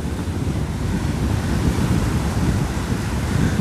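Sea waves at Bugalhau beach in Maragogi roar in a continuous loud wash of surf, mixed with buffeting wind noise on the microphone.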